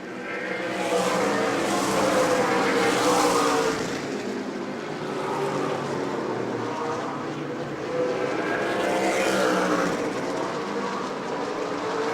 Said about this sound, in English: And here comes that 51 of Jake Finch